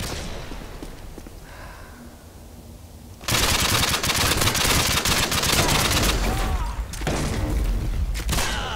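Gunfire in the game Modern Warfare 2 erupts after a quiet stretch: dense, loud bursts of automatic rounds and crackling shots fill the rest of the moment, with no voices.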